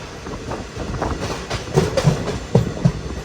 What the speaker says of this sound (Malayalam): ട്രെയിൻ ഇപ്പോൾ ചാലക്കുടി റെയിൽവേ സ്റ്റേഷനിലേക്ക് എത്തിയിരിക്കുകയാണ്